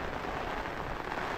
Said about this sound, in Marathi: पाऊस आलाय खूप जोरात एकदम.